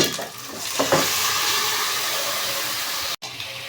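Boiled chicken, about a kilo, is stirred and fried in a hot pan for gongura chicken, giving a loud continuous sizzle with stirring scrapes. It cuts out briefly near the end and there is no talk.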